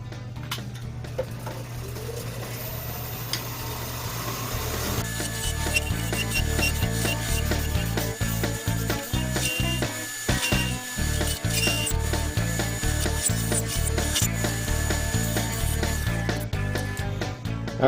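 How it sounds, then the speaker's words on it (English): A gouge hollows the bowl of a captive ring wooden goblet spinning on a lathe, giving a steady, continuous scraping rasp that carries on without pause throughout. "I'm just going to use my gouge."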